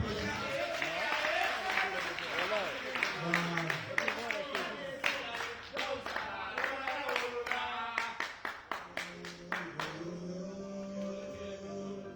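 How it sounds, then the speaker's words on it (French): Audience at the opening ceremony of a hip hop festival breaks into scattered, uneven clapping, individual claps growing sharper and sparser toward the end, mixed with crowd voices. "Applaudissements."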